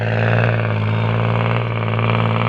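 A tractor used for plowing rice paddies runs steadily nearby, its engine giving a loud, even, low-pitched drone with a constant throbbing hum and no change in speed or voices.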